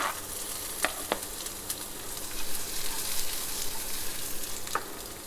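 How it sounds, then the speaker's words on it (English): Chopped onions drop into a hot pan of frying mushrooms and butter, giving a steady close sizzle with a few sharp crackles and stirring clicks, no voices. "So with that, add my onions."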